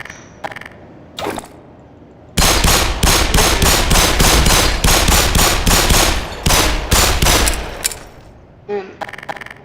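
Rapid automatic gunfire from a gun in an animated cartoon: a few short isolated shots, then long loud close bursts of rattling fire, tapering to scattered shots at the end.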